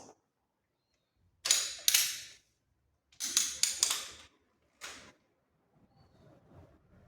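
An air rifle gives several sharp mechanical clacks and snaps in quick bursts separated by silence, close and crisp, followed by faint handling rattles.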